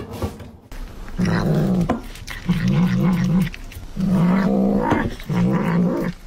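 A cat growls aggressively while eating, in four long, throaty, moaning bursts separated by short pauses. It is close and fairly loud.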